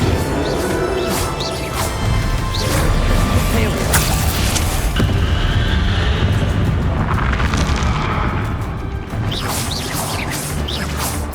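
Bombarda explosion spell blasting in the video game Hogwarts Legacy during a final boss fight, loud booming and crashing bursts over a dense, constant battle din, with voice sounds mixed in.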